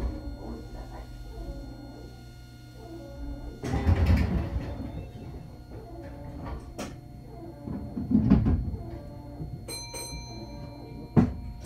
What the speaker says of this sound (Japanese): ご注意ください。 ドアを閉めます。